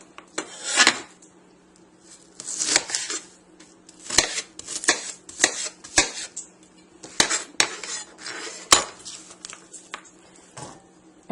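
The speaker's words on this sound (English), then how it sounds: "I'm slicing on this side to get all these little pieces" A kitchen knife slices through an onion on a cutting board in irregular, crisp taps and thuds, some in quick runs, with brief pauses between strokes over a faint steady hum.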